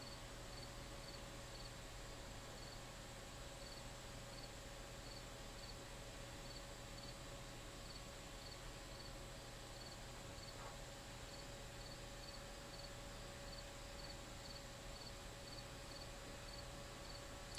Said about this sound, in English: the laptop fan humming